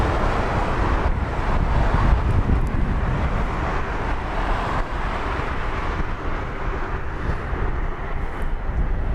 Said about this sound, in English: the wind is absolutely nuts right now